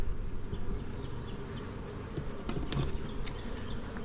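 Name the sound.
honey bees buzzing on a hive frame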